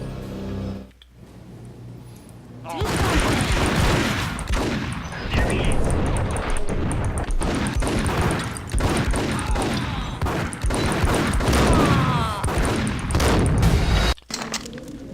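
Sustained barrage of gunfire in the Max Payne video game, loud and dense with booming shots and crashes packed together for about eleven seconds, starting abruptly after a quiet lead-in and cutting off near the end.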